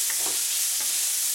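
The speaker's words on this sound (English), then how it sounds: "give everything a good stir" Vegetables fry in a pan under a bright constant sizzle, with a couple of brief soft scrapes from a utensil stirring them, close and short with no talking.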